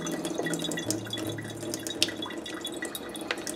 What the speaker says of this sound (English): get the strainer and just strain off the excess water